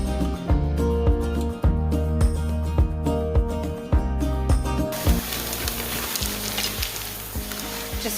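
Onions sizzle in a hot pan at home-cooking volume, a steady close crackle overlaid with rhythmic tonal music that fades partway through, leaving the frying hiss more exposed.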